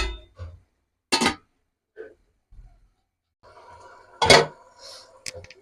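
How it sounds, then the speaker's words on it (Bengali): A metal lid clatters and clinks onto a cooking pot of bhuna khichuri, a few sharp, close knocks separated by quiet pauses, with a louder clank near the end. "এখন ঢাকনা দিয়ে ঢেকে দিচ্ছি।"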